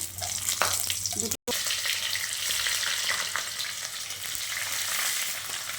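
Cumin, cinnamon, bay leaf and cardamom hit hot oil in a wok and crackle into a loud steady sizzle, with a brief dropout early on and the hiss holding evenly afterward; no voices.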